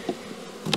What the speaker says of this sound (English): The bees were spread around in the hive